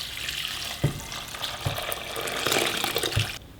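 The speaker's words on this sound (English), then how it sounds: "I'm gonna take a pot, put a strainer up here, and then we're gonna strain out these nice juices." Turkey juices poured through a strainer into a pot, a steady liquid splashing and trickling with a few soft knocks, close by and alone.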